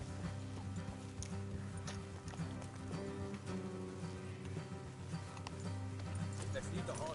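Steady clip-clop of horse hooves trotting along in the video game Red Dead Redemption 2, with voices talking over the sound the whole way through.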